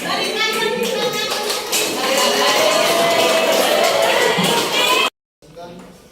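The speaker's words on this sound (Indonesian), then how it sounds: "Berikan tepuk tangan" An audience applauds a student walking to the front of a classroom, giving a few seconds of dense, steady clapping mixed with voices and chatter. It stops abruptly, and quieter room sound follows.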